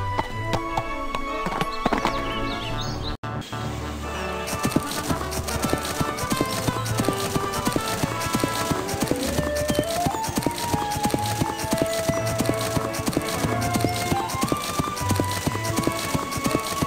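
A horse trots along a sandy trail in the Barbie Riding Club video game, its hooves beating a steady clip-clop rhythm close by. Light background music plays underneath, and a whinny rises early on.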